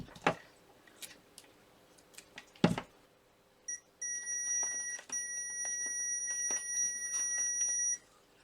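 Continuity-test beeping from a multimeter checking a hammer drill's power cord: after a few knocks and handling clicks, a steady electronic tone starts, then sustains for several seconds with brief interruptions as the probes shift.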